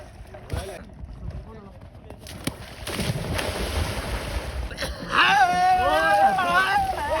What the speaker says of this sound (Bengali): দেখো আমাকে গা মুছতেও দিচ্ছে না, কেমন জল ছিটাচ্ছে দেখো।